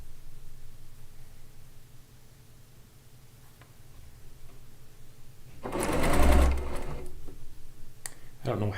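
Log cabin quilt blocks being stitched on a sewing machine, a low, steady motor hum running quietly throughout, with a louder burst of clatter and rustling near the end.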